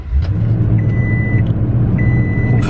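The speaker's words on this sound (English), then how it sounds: "So we'll start it up." A 2018 Toyota Tundra Limited engine cranks and catches, then settles into a steady low idle heard from close by, with two short electronic chimes sounding over it.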